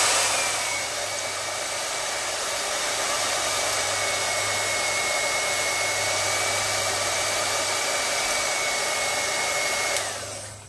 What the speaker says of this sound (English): Get the blow dryer and drying this part.